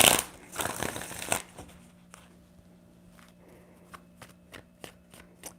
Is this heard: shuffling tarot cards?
yes